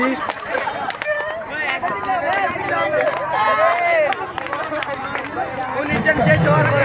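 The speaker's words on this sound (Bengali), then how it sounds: "রহমানীয় দাখিল মাদ্রাসার শিক্ষার্থীরা এই যে আনন্দ করছে আনন্দ উল্লাস করছে" Scout students from Rahmania Dakhil Madrasa celebrating at the 12th Chakaria Upazila scout rally camp, a dense, steady crowd of young voices chattering, shouting and cheering close by throughout.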